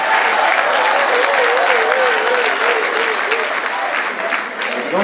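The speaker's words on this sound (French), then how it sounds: "Tonnerre d'applaudissements, s'il vous plaît." Loud, sustained applause from a conference audience in Paris fills the room, steady throughout with a slight easing near the end.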